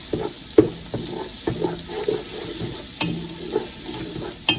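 Onions cook in a pan for a béchamel chicken lasagna, with a steady soft sizzle broken by repeated scraping stirs and light utensil clinks against the pan.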